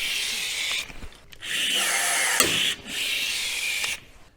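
A Ski-Doo Expedition SWT full-body skid plate gets two rivets set with a power tool, two loud sustained bursts of whirring, the second with a sharp crack in the middle, separated by short pauses.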